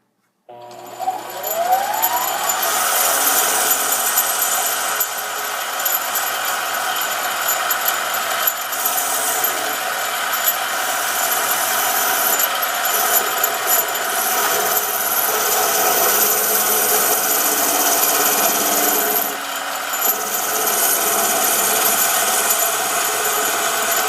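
A mini lathe makes facing cuts on a small part, its motor giving a steady, loud, continuous whine and whir with little change throughout.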